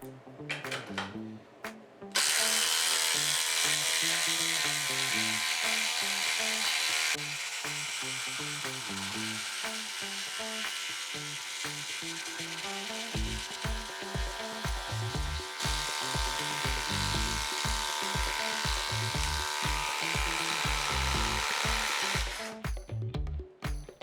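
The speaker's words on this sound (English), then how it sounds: "we've got the DCF840 with a fully charged Powerstack" DeWalt DCF840 impact driver running on a Powerstack battery, with a loud sustained whir that turns into rapid hammering impacts as it drives, stopping and restarting briefly near the end.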